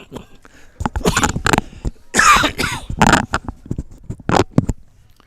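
Several harsh, close coughs come in separate bursts with short pauses between them, loud and alone, from someone fighting a cold.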